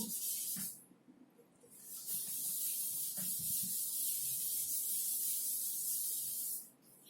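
A board being wiped clean of writing, a steady broad rubbing hiss in long continuous strokes, close and fairly loud, with a brief pause between strokes.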